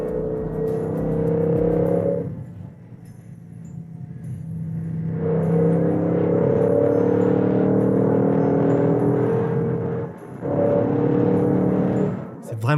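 A BMW M5 engine and exhaust rumble close by, rising and falling in waves of revving with brief dips before surging again, while someone talks faintly.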